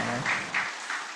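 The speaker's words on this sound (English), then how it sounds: "Give applause lah for our moderator" An audience at a civil engineering symposium in Aceh claps for the moderator in a short, fairly close burst of applause that swells and fades within about a second.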